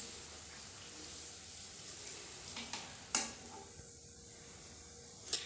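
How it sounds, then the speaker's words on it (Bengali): Luchi fry in hot oil with a steady, soft sizzle throughout, broken by a couple of sharp crackling bursts as the dough puffs up. "তো চলো লুচিগুলো আমি পুরো ভেজে নিই।"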